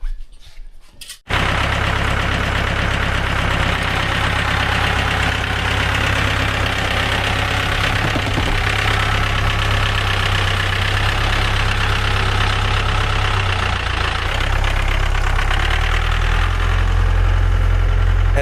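A tractor engine idles steadily and loudly up close on a cold winter homestead, a continuous low rumble with a mechanical knock that starts abruptly after a short quiet moment and holds without speech.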